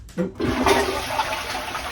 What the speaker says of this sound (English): I'm going to flush the toilet, hang on